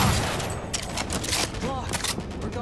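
Rapid bursts of gunfire in the Cyberpunk 2077 video game, a dense fusillade of shots with explosive cracks running throughout, while voices shout over the combat.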